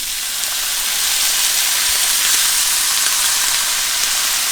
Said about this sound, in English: You can hear it sizzle more. That's just the soy sauce.